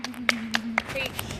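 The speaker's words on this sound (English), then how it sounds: "We gotta applause that." A few separate claps, roughly evenly spaced and fairly close, over a steady low hum in a live stream.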